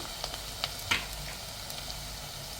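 Onions browning in a pan of hot oil for a curry-leaf tempering give a faint, steady sizzle with a few soft crackles and pops, alone and without talk.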